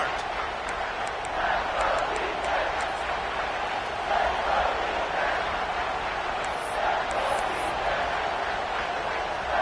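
Stadium crowd at an American football game during a third-down red zone play, a sustained loud roar of many voices under a commentator's continuous play-by-play talk, with a few brief whistle-like tones late on.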